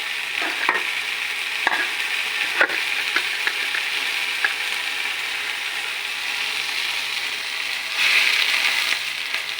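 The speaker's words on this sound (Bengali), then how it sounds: "ঝোলটা ফুটে গেছে" Curry gravy flavoured with coriander stems and a little sugar bubbles in a pan, making a continuous loud hiss-like sizzle with occasional clicks and scrapes, swelling near the end.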